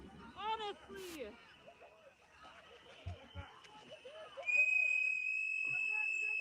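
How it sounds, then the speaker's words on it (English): Whistles blown at a street protest in Minnesota, a sustained shrill tone near the end over a background of crowd voices and speech. "The whistles."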